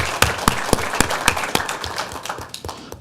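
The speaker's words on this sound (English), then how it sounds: "Give them a round of applause." A small audience claps at a school board meeting honoring recognized people, a few loud individual claps in a loose rhythm that thin out and fade over three seconds.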